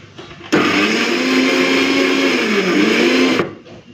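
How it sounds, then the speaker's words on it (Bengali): Electric grinder or mixer running for about three seconds to grind onion, garlic, green chilli, ginger and whole cumin into a fish curry masala; a loud, steady whirring drone that starts and stops abruptly, with no talking. "পেঁয়াজ রসুন কাঁচা লঙ্কা আর আদা গোটা জিরে দিয়েছি ওটাকে ভালো করে বেটে নিই"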